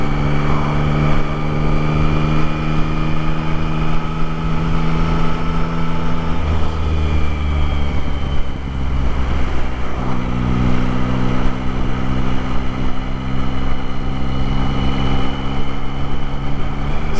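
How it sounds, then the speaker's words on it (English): A 2024 Yamaha MT-09 motorcycle engine runs at low revs during break-in riding, a loud steady drone with a slight dip and recovery in pitch midway, wind rush blended underneath. "I'm trying to keep the revs really as low as comfortably possible right now."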